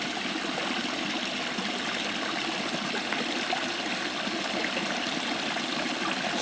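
Continuous rushing of flowing creek water, steady and broadband, fairly close with no voices.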